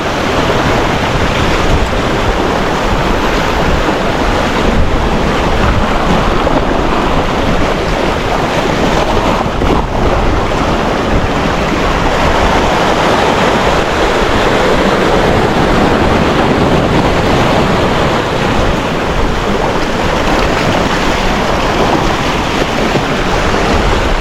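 Strong wind and sea waves around a small fishing boat out on open water, a loud, steady rush with heavy wind buffeting on the microphone throughout and no voices.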